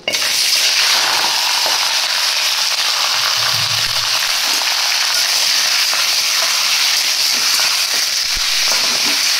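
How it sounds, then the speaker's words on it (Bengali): Chicken pieces fry in hot oil with a loud, dense, continuous sizzle and crackle, close and steady throughout with no talking. "সব থেকে আগে যেটা দরকার সেটা হচ্ছে চিকেনগুলোকে ভেজে নেব।"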